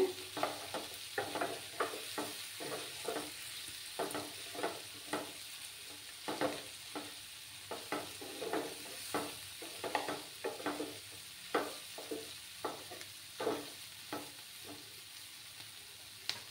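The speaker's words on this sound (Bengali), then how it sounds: "ভালো করে মিক্স করতে হবে।" Mixed vegetables and eggs being stirred in a hot frying pan, a steady run of scraping, clacking strokes over a faint sizzle, close and alone.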